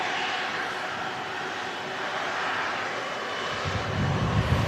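An Airbus A330 jet airliner approaching to land at Manchester Airport, a steady distant engine roar that swells slightly louder toward the end, with no talk.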